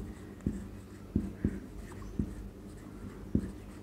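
An equation being written by hand during an economics lesson: a quiet series of short, scratchy strokes and taps at an uneven pace, with no one speaking.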